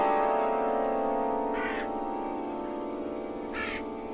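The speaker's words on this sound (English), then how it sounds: "Yeah, those are crows." A few crows caw in two short, harsh bursts spaced about two seconds apart, moderately near, over a steady droning hum, with no one speaking.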